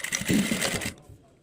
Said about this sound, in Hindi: अब सिलाई लगाएंगे